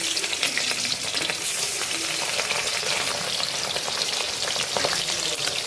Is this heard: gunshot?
no